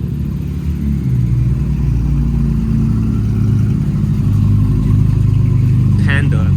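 A Nissan Z with a VR30 engine and upgraded turbos idles and revs in a steady, loud, low rumble that swells slightly toward the end, with people talking over it.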